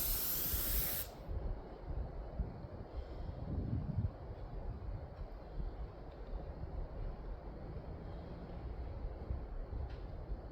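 Spray gun coating a steel gantry's bottom flange with farm implement paint, a steady close hiss running throughout with no talk, slightly louder at the start.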